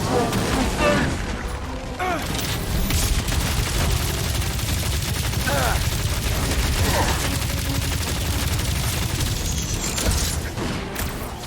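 Dense video game gunfire from Guardians of the Galaxy rattles in sustained bursts with booms and mechanical clatter, loud and continuous, while characters shout over the combat.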